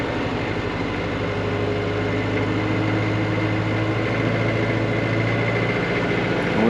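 A tractor engine is held at around 1600 RPM while raking hay into windrows, making a loud, steady, close drone with an even low rumble and no breaks.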